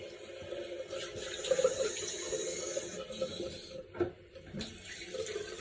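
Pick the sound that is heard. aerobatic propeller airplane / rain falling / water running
water running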